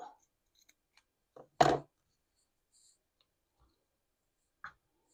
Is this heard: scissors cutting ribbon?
yes